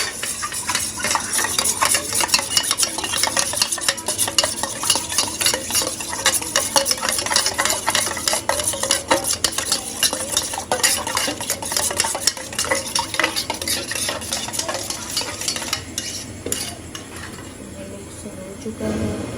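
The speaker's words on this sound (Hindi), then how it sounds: "अभी इसको अच्छे से करते हैं मिक्स।" Food being stirred and mixed in a pan on a stove, steady scraping and sizzling with constant clatter throughout, loud and close, ending with a slightly softer stretch.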